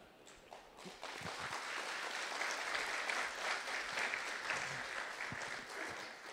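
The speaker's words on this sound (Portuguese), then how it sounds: "Eu aceito, mas palmas para vocês também, tá?" Applause rises from an audience after a talk on families' emotional health, starting with scattered claps then filling into steady, moderately distant clapping with a few footsteps before easing slightly.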